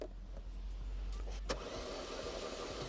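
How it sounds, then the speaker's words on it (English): A Toyota car engine cranks while starting, a steady close mechanical churn that grows louder and rougher after a brief sharp burst midway, with no talking. "I just need to hold the Toyota key a little closer, and after that, cars usually start."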